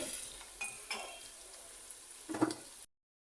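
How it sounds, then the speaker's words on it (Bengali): Onions frying in oil in a pan, a light sizzle broken by a few scrapes and clinks of a spoon stirring, close and fairly quiet, ending abruptly. "পুরা কড়া করে ভাজতে হবে না পেঁয়াজ"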